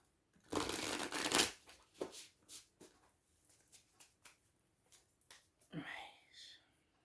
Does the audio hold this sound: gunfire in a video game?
no